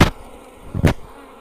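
Buzzing bugs in the Metamorphabet video game: two short, sharp buzzing bursts, one at the start and another a little under a second later, with quiet background between them.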